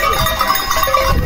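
Goats being gathered from a pasture to sell a buck, overlapping bleats close by, loud and continuous with a faint bell clanking among them.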